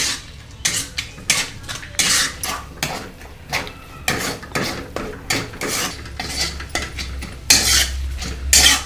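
Eggs stirred into anda bhurji in a metal pan, with a utensil repeatedly scraping and clinking against the pan in an irregular rhythm, close and fairly loud, with a faint sizzle underneath.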